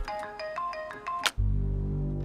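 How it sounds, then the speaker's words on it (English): An incoming call sets a telephone ringing in a quick run of bright electronic ring tones, then cuts off abruptly into a low, loud hum. "John Brennan receives a weird phone call. It seems to be coming from a stranger"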